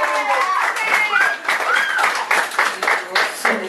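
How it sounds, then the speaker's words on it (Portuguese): Crowd at a festa junina mock wedding bursts into clapping mixed with whoops and excited voices, a dense, lively burst of applause and cheering that carries on for several seconds. "Palmas para a decisão."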